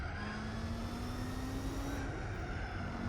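A powerful race car idling in Gran Turismo 4, a low, burbling engine note held steady with a faint, slowly rising whine running through it.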